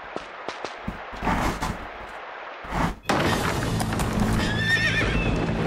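In the Tomb Raider Chronicles video game, a horse's hooves thud and clop in a loose rhythm, then after a short gap the horse gives a loud, close neigh over a steady game backdrop.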